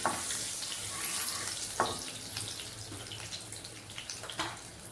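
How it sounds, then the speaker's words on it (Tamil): Whole spices frying in a hot pan as the base for white biryani: a dense, continuous hiss and crackle, close and fairly loud, with occasional small pops and scrapes and no voices. "நல்லா பொரிய ஆரம்பிச்சிது."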